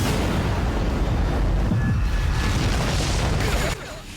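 Heavy booming blast from a soul bomb attack in the mobile game Bleach Brave Souls, a loud rumbling explosion with crackling debris that holds for several seconds, then drops off sharply near the end.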